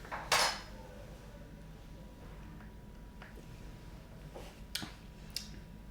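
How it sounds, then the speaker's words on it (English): A spoon clinks a few times against the inside of a mug while stirring an espresso drink, with a sharp, close tap up front and then several lighter taps. "Give it a quick stir."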